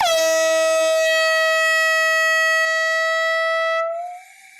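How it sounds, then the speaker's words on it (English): A single loud, sustained air horn blast with a bright harmonic tone, holding steady for several seconds before its pitch wavers and it cuts off. "Here comes the air horn."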